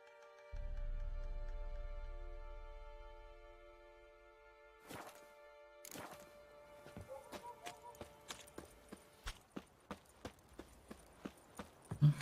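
Horse hooves in the video game Witcher 3, a steady series of crisp clip-clop beats that start sparse and quicken into a regular trot, fairly quiet over faint sustained background tones and a few thuds.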